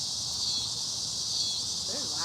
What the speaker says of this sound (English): Or cicadas? Sorry, not locusts.